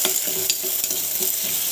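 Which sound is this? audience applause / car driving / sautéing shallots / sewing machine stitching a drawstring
sautéing shallots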